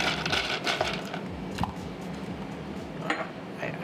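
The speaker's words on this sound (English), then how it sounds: "I fill the shaker with ice." Ice cubes clatter into a cocktail shaker at a high-end restaurant bar, a burst of close hard chinks and knocks early on, then scattered clinks as the cubes settle.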